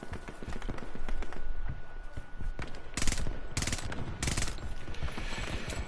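Video game assault rifle fire breaks out in rapid automatic bursts, several loud clustered volleys of gunshots close up over continuous chaotic game noise, with no talk.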